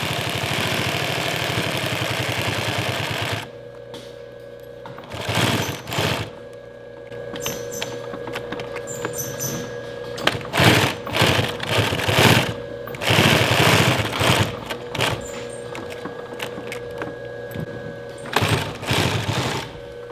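An industrial sewing machine stitches the second seam on a work glove, its motor running in loud bursts of rapid, humming stitching separated by brief pauses, close up, with a steady mechanical drone throughout and no talking.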